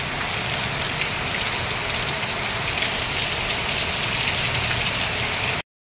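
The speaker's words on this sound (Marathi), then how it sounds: "बाहेर पाऊस पडतो आहे" Steady rain falls outside in Mumbai during the monsoon, a dense, even hiss of drops on surfaces that continues unbroken and fairly loud for several seconds with no voices.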